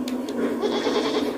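A goat bleats in the video game Blanc, a couple of short nasal calls near the start followed by a wavering drawn-out cry, fairly close and alone with no talk.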